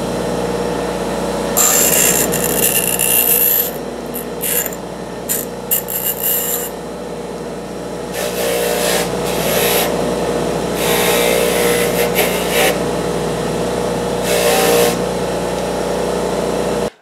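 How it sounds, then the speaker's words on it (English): A sharp cut wire end ground smooth on a grinder in a metal shop, several loud abrasive bursts of rasping contact separated by brief pauses, close and continuous over the motor's hum. "Now I'll take this on a grinder and see how I've smoothed that over, because this is really pretty sharp."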